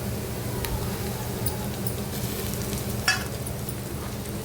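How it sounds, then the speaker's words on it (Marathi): Chopped tomato goes into onions frying in a pan and is stirred, giving a continuous moderate sizzle with soft stirring scrapes and one sharper clatter partway through. No one speaks. "आता याच्यामध्ये बारीक चिरलेला टोमॅटो घालायचा आहे"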